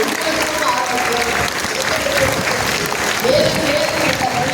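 Audience applause at a Yoga Day event at DAV school: a loud, continuous round of many hands clapping, with a person talking over the clapping throughout.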